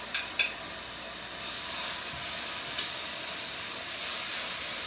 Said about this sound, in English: There we go, nice sizzle.